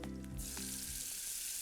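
Green chilies fry in hot ghee with a steady, close sizzle and crackle that runs continuously and alone for the whole moment.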